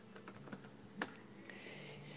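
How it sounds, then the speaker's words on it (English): Password being typed on a Dell Inspiron 3520 laptop keyboard: a short run of soft, quick key taps close by, with one sharper click near the middle, over a steady low hum. "Just gotta type my password."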